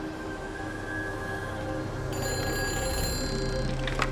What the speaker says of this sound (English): Oh, that's a phone ringing